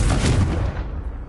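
A Confringo fire spell blasts in Hogwarts Legacy, giving a single loud, close, deep boom that rumbles and fades over about a second.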